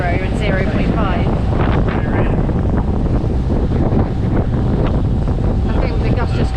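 Sailing boat in strong wind, a steady loud roar of gusting wind buffeting the microphone with water rushing along the hull, some voices faint underneath.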